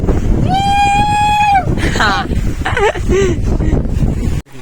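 Strong wind roaring against the microphone at a reverse waterfall near a temple, a loud continuous rushing blast throughout, with people talking and calling out over it.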